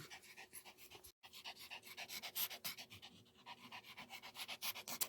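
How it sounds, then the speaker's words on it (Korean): An old dog with a brain tumor pants rapidly and steadily up close, quick rhythmic breaths with a brief pause, faint and breathy throughout. "이렇게 한 시간 동안 헐떡이면서 헐떡었다."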